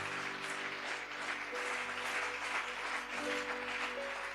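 A congregation applauds inside a church, giving a steady, dense wash of clapping at a fairly distant, moderate level, with faint sustained tones underneath and no talking.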